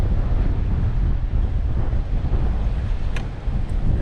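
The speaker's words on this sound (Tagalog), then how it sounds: "Grabe namang hangin na to." Strong wind buffets the microphone with continuous loud rumbling gusts, alone and close, with no voices.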